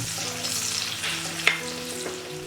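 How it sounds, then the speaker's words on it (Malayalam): Cashews and raisins frying in hot oil in a pan, giving a steady close sizzle with faint stirring clinks, no voices. "ഒരു ടേബിൾ സ്പൂൺ കിസ്മിസും കൂടെ ചേർത്ത് കൊടുക്കാം ഇത് ചേർത്ത് നന്നായിട്ട് വറുത്തെടുക്കണം"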